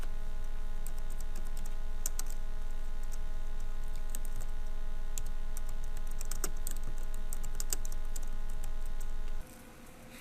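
Computer keys clatter in quick, uneven bursts of close, crisp clicks as fields in a customer form are filled in, and the sound stops abruptly near the end.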